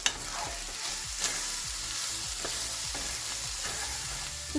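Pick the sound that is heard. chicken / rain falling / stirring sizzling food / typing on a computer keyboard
stirring sizzling food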